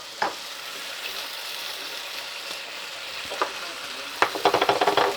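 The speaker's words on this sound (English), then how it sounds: "So I'm gonna put in my spring onions, finely chopped spring onions" Finely chopped spring onions hit a hot pan with thin-sliced beef, a steady close sizzle with a few scrapes, then a quick run of rattling stir strokes at the end.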